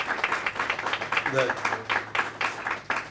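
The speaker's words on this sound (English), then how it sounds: "how about a round of applause for Deana" Audience applause at a Rotary club grant awards event, a dense crackle of clapping running steadily under a speaker's voice.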